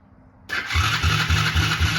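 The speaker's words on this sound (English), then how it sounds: "I'm actually kind of surprised this engine starts." An engine with low compression cranks over and catches during a compression check, followed by a steady, rhythmic idle with regular pulses, close and loud, with no talking.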